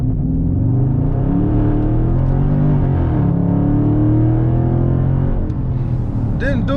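A Dodge Charger Scat Pack Widebody launches hard from a standstill, and its deep engine rumble climbs loudly and steadily through the revs, close up and alone. A brief whine is heard near the end.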